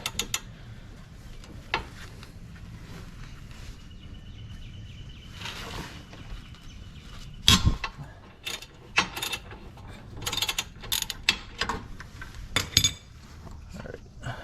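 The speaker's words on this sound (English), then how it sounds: "you're going to use your 14mm socket, and I have a 3-inch extension on here to get the bottom one out" A 14mm socket on a ratchet with a 3-inch extension loosening a wheel bolt on a 2018 Subaru Outback, giving intermittent clicking and metallic clanks over low background hum, close up.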